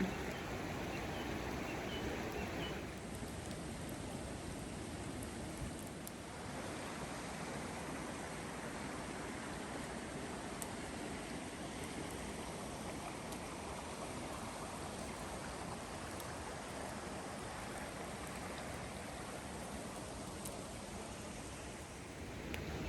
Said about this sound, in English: It is raining again, like lightly raining.